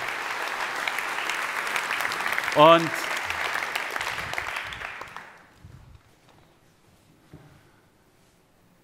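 Audience applause from a seminar crowd rises in a dense, loud burst, with a brief vocal whoop partway through, then fades to near silence as a voice begins speaking.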